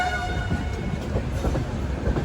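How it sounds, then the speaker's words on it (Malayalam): A train pulling into Tiruchirappalli Junction railway station, delayed about ten minutes, with a loud, steady rumble of wagons and wheel clatter and faint tonal horn or brake tones running underneath. "ട്രെയിൻ ഇതാ തിരുച്ചിറാപ്പള്ളി ജംഗ്ഷൻ റെയിൽവേ സ്റ്റേഷനിലേക്ക് എത്തിക്കൊണ്ടിരിക്കുകയാണ്"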